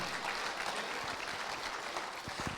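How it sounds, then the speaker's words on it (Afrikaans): A church congregation claps hands in praise of God, a dense, steady wash of applause that fills the room and holds at an even level throughout. "dit sal so lekker wees as julle almal 'n lekker hande klap gee"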